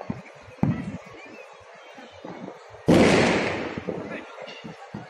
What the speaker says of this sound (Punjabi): ਸਾਹਮਣੇ ਘਰ ਤੋਂ ਹੀ ਪਟਾਕੇ ਚੱਲ